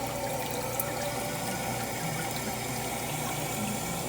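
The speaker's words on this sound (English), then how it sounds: "Right now is the fill cycle's taking way too long." Hoshizaki commercial ice machine stuck in a long fill cycle, with steady water running into it: a constant rushing, hissing flow under a low pump-like hum, even and unbroken throughout, with no talk.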